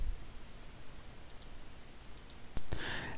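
A computer mouse clicks on website links: a couple of sharp, close clicks near the end, with faint hiss before them and no talking.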